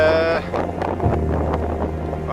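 Strong wind gusts buffet the microphone on an exposed hilltop, a steady loud rushing roar with a low rumble that runs through the whole moment.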